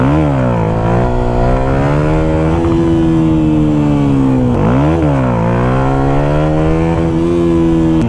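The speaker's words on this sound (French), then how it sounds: "maintenant vous voyez du coup un petit peu ce que ça donne, les wheelings en MT125" Yamaha MT-125 motorcycle revving hard during a wheelie, the loud engine pitch climbing, dipping sharply near the middle, then rising again as it holds the revs, close and continuous with no voices.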